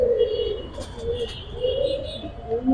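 Giribaz pigeons coo in a loft, close and fairly loud, with repeated soft rolling coos and faint chirps from other birds.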